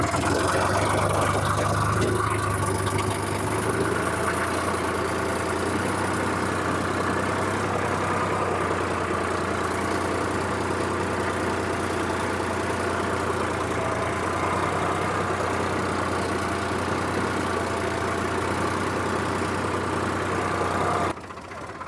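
A tractor engine set up with a plough idles in a steady, low mechanical drone with a constant hum and faint knocking, running close and unbroken for over twenty seconds before dropping off at the very end.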